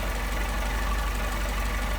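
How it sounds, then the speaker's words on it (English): Car engine idling on Solex 44PHH carburetors while the mixture is adjusted, a steady close rumble with a slightly uneven, lumpy beat and no talk. "Screw it in, you'll be able to hear the engine start to stumble, then I'll back it out."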